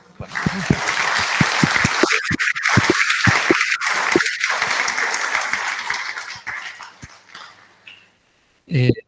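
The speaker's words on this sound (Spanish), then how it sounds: "agradezcámosle a Iván con un aplauso" Audience applause for a speaker at the close of an astronomy talk, loud steady clapping that fades out toward the end, with voices speaking over it.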